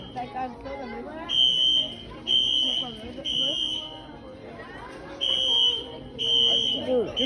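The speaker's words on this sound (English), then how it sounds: "who pulled the fire alarm?" A fire alarm sounds inside a Ross store, a loud high-pitched electronic tone repeating in bursts of about a second with short gaps, over shoppers' chatter and nearby talking.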